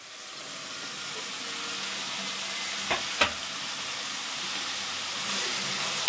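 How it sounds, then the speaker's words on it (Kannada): Tomatoes and sprouted field beans fry in a pan for avarekalu bath, giving an even close hiss of sizzling with a couple of sharp spoon knocks and no voices. "ಇದು ಒಂದು ಸ್ವಲ್ಪ ಫ್ರೈ ಆಗಬೇಕು"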